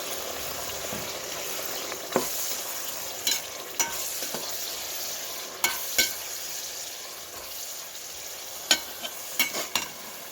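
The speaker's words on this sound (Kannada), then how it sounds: "ಈರುಳ್ಳಿನ ಚೆನ್ನಾಗಿ ಫ್ರೈ ಮಾಡ್ಕೋಬೇಕು" Onions frying in a pan for mint rice give a soft, steady sizzle, with occasional sharp clinks and scrapes of a spoon stirring against the vessel, close and fairly quiet.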